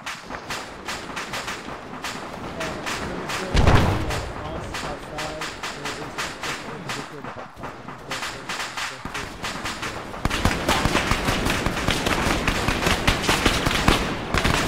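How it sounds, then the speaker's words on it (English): A frag grenade detonates in a military shooter game with a single loud blast early on, amid steady crackling gunfire and rapid rattling bursts that grow louder toward the end. "Frag going out."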